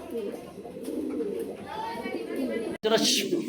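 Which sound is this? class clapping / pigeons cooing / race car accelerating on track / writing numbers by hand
pigeons cooing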